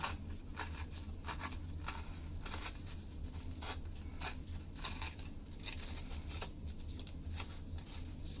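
A paper envelope being cut and torn, a steady run of quiet, crisp scissor snips and paper rustles repeating at an even pace over faint background hiss.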